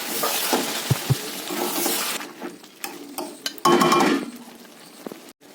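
Mutton is stirred and fried with spices in a pot, giving a steady sizzle with scraping and clinking of a spoon against the metal, and a louder clatter near the end.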